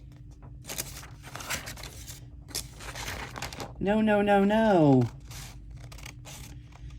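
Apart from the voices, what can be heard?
fabric scissors cutting paper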